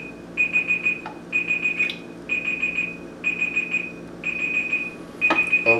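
A darkroom timer alarm beeps in repeated rapid bursts of high-pitched tones, about six bursts with short gaps, loud and close, with no voices.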